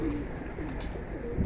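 Pigeons coo softly and continuously in a loft, their low murmuring calls steady throughout, with several newly acquired birds perched on a rooftop water tank nearby.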